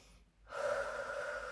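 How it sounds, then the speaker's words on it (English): A single deep inhale during a gentle stretching session, a soft, close airy breath rising after a brief pause and held steady to the end, quiet with no talking. "have a couple of deep breaths there"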